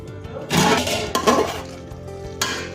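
A metal lid is set onto a cooking pot of yakhni pulao with a few clanking, clinking knocks: a loud clatter, a second rattle, then a final lighter tap.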